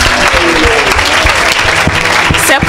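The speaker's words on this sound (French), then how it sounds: "Acclame très très fort pour Jésus" A church congregation claps loudly and continuously, a dense wash of applause that fills the whole moment, with faint voices mixed in.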